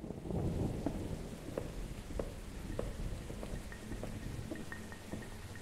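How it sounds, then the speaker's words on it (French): Thunderstorm with rain outside a house in the horror game Refuted Wind: steady rainfall with scattered drop impacts and sharp crackling strikes, distant rumbling underneath, fairly faint. "Il y a de l'orage dehors."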